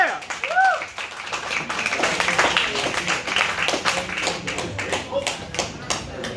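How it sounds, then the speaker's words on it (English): An audience at a comedy show in a bar claps for a comedian, a lively patter of applause and taps rising and falling, with a voice talking over it near the start and cheers mixed in. "Clap it up, everybody."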